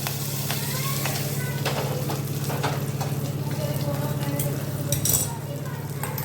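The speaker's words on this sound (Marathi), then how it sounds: "दोन उभ्या टाकलेल्या मिरच्या कापलेल्या परतून व्यवस्थित हलवून घेऊया" Slit red chillies sauté in a pan with a steady close sizzle while a spoon stirs and clinks against the metal now and then; a voice murmurs faintly underneath.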